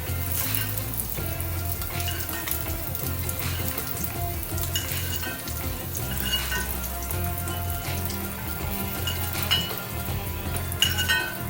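Paneer frying in a pan, a steady sizzle with occasional light clinks of a utensil against the pan, close and continuous, with no voices.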